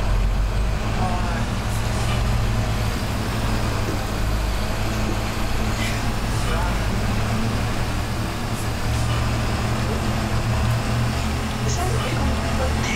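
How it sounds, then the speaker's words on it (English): A 2000 Bluebird 3800 school bus engine in the driving game Rigs of Rods drones loudly and steadily, with occasional air-brake hisses. Someone talks over the continuous engine noise. "Oh, this bus sounds mad today."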